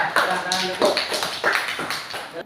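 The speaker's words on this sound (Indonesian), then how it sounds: "Beri aplaus teman." A class of students applauds, a quick burst of sharp, rhythmic claps that sounds close and fairly loud.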